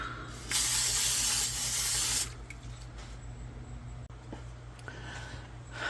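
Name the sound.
cooking oil sprayer spraying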